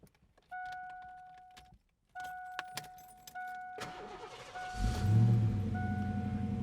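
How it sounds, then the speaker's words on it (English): Keys jangle and click into the ignition of a 1988 Ford Mustang LX convertible, with a few chimes sounding, then the engine cranks and catches into a steady low idle, all close up with no talk. "So I'm going to stick the key in the ignition,"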